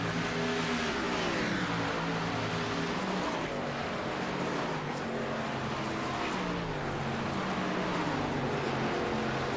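Race trucks circle the Eldora dirt track during a Great Lakes Region truck race, engines droning and revving continuously at a steady, loud level with overlapping motor tones and no talk.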